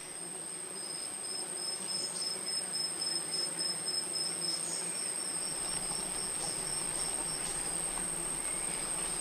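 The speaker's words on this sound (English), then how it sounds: "This flower attracts sweat bees." Sweat bees buzz around a flower in an Asian tropical rainforest, their faint hum sitting beneath a steady, high insect drone that runs through the whole stretch.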